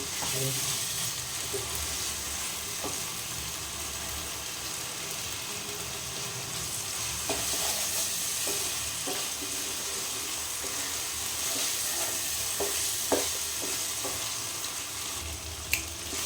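Spice paste with green peas frying for restaurant-style matar paneer, a steady close sizzle and crackle of oil throughout, with light stirring clicks and scrapes of a spoon in the pan.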